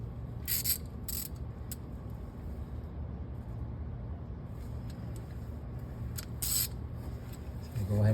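Ratchet tightening 17 mm sway bar link bolts on a 2006-2012 Mitsubishi Eclipse, with a few short bursts of rapid clicking at the start and again near the end over a steady low hum.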